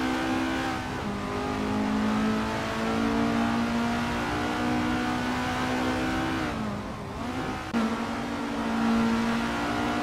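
Racing cars in a video game race, engines droning at a steady high rev with a strong tonal whine, one engine note dipping and climbing again as it shifts and accelerates, loud and continuous with no voices.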